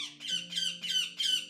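A pet bird squawks loudly and repeatedly indoors, four shrill, rasping calls in steady rhythm close to the listener, with a faint low hum underneath.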